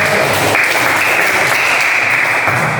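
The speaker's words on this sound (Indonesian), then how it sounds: "Ya, tepuk tangan untuk kelompok 1." A classroom of students at a school PE lesson claps for the first group, a dense, steady burst of applause that stays loud and close throughout, with no talking over it.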